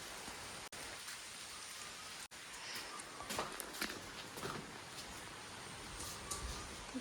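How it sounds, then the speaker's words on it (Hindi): Steady, soft rainfall patters continuously on surfaces, with a few louder drops and faint splashes, no voices. "बारिश हो रही है।"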